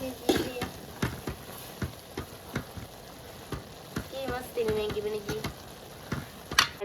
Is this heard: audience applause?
no